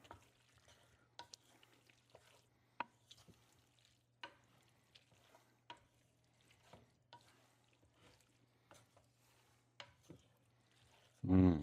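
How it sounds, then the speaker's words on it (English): Shrimp for scampi being mixed with a slotted spoon in a pan, giving scattered soft clicks and scrapes over a faint hum, ending in a brief louder clatter. "and I'm using a slotted spoon. Give that a nice mix in there."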